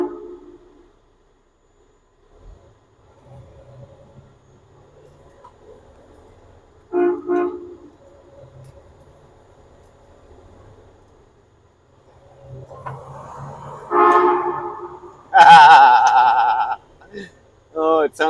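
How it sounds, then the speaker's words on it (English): A truck-mounted train horn blares in a few bursts, muffled and echoing, with quieter rumbling and a voice in between. "Wonder what my train horn sounds like under here."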